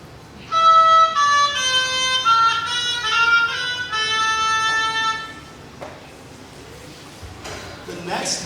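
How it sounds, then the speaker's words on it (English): A school band student plays a double reed instrument at a middle school concert. A melodic line of sustained, reedy notes runs for about five seconds, then fades into room noise and faint audience sounds. "It's kind of unique in that it has 2 reeds that are kind of held together with string."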